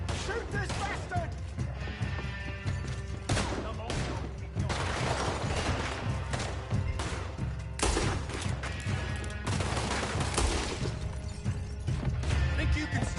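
Gunfire in Red Dead Redemption 2, a dense, loud barrage of shots and crashes running throughout, heavily mixed with shouting voices and game sounds.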